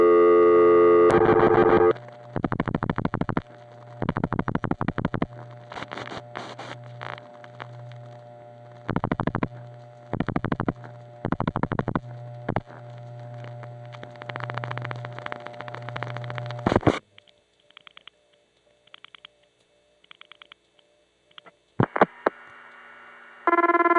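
Panel-type telephone exchange selectors on a 1976 tie line after dialing, rhythmic bursts of whooshing and buzzing in regular pulses, then a quieter stretch of faint clicks and tones before a final burst.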